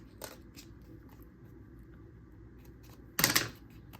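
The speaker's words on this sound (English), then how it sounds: "I'm going to cut a little strip here." Scissors snip a small strip for a handmade card: a few faint clicks, then one sharp, close crunch of the cut, in a quiet room with no voices.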